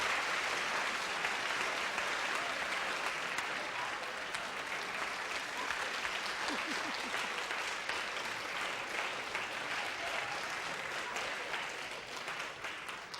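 A steady, continuous round of audience applause fills a television studio as a camel is led off stage, the clapping dense and even throughout, with a brief voice murmuring through it partway.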